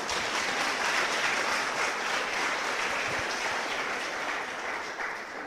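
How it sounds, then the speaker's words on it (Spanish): A church congregation applauds steadily as an offering of praise, a dense, even wash of many hands clapping that runs the whole time and eases off slightly at the end. "Dale una ofrenda de aplauso al Señor."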